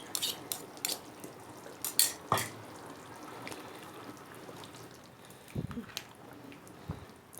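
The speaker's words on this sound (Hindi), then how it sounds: "थोड़ा सा इसे हिला के" A spoon scrapes and clinks against a pot of chicken aloo gosht curry, several sharp metallic taps early then softer stirring and a couple of low thuds, fairly quiet and close.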